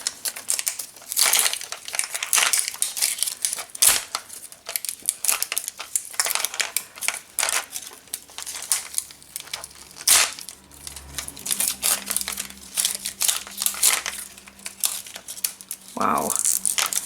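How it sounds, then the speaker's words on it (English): Mini Brands ball plastic packaging gets torn and crinkled by hand, with loud, close bursts of crackling and ripping continuing throughout while a person talks between the noises. "And these tear straps, they are never working. See if we can open it anyway."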